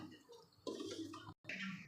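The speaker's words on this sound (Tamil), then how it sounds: "கொஞ்சமாக தண்ணி ஊற்றிக்கலாம்" Water splashes into a cooking pan while a Vinayaka Chaturthi sweet of chana dal, coconut and jaggery syrup is made, a short close pour that starts suddenly, cuts off briefly, then goes on.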